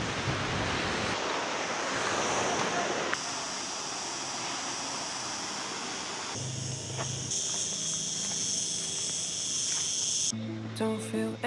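Surf rolls in steadily along the coast on the Seven Hanging Valleys Trail in the Algarve, a continuous wash of waves under wind noise, with insects chirping faintly in the background.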